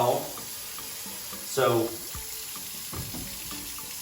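Faucet water runs into a sink while sushi rice is rinsed, a steady low splashing with a louder gush partway through and occasional clinks, with a brief spoken word at the start.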